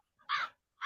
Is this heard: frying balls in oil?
no